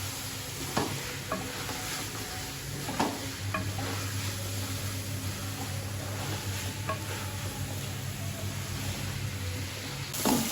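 Finely chopped onions in masala are stirred in a pan for bhindi gosht, a soft sizzle under scraping spoon strokes, with a few sharper clinks, moderately close and without talk.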